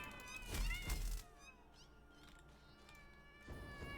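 A video-game cat gives a couple of loud, wavering meows, followed by softer drawn-out mewling cries and a later swell of sound. All of it plays against quiet game background noise.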